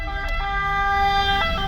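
An ambulance siren wails with steady sustained tones as it passes close by, loud and clear over low road rumble with no talk.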